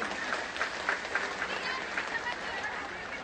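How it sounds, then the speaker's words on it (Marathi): A crowd at a Bhaubeej sibling-bond celebration in Chandgad breaks into a sustained round of clapping. The applause is dense and even, with scattered sharper claps and faint voices mixed in. "एकदा जोरदार टाळ्या आपल्यासाठी"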